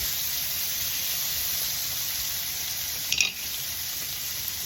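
Pieces of cow tongue brown in a hot pan over high heat for stew, giving a steady, even sizzle throughout with a brief clatter near the end.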